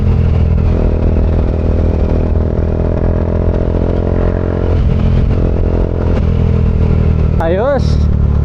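A Bajaj Dominar 400 UG2, a 400cc motorcycle fitted with a Palit Zeus aftermarket muffler, idles with a deep bassy exhaust and gives one short rising rev near the end.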